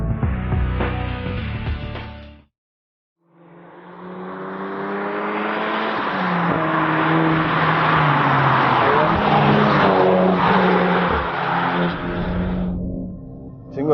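A Lynk & Co 03+ performance car, a 1.6-ton hatchback, accelerates hard with a loud, sustained engine note that climbs through gear changes after a brief silence, continuing strongly to the end.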